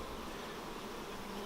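Honeybees shaken from brood frames into a split hive produce a thick, continuous buzz, loud and close, steady for the whole moment with no talking.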